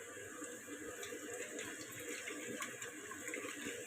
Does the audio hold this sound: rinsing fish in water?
yes